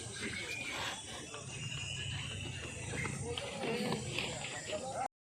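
Horses walking at a bullock cart race held at Chalmala Bandar, their hooves clip-clopping faintly within steady crowd noise and voices.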